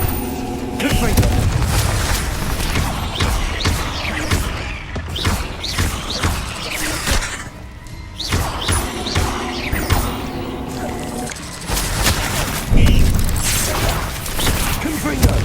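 Repeated booming spell blasts from Confringo go off in Hogwarts Legacy, loud thuds and crashes arriving in clusters with brief lulls between them, mixed with other spell effects and a voice that casts.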